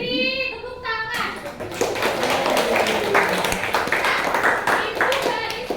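Classroom group clapping in unison during an academic coaching session, a loud, sustained burst of dense applause that follows a few spoken words and carries on steadily to the end.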